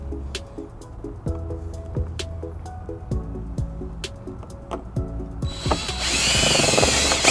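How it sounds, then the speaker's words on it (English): A power drill bores holes in a 2019 Kia Soul during a trailer wiring installation, running in short repeated bursts with pauses and then a louder, sustained whine at the end, close by. "we got our holes drilled"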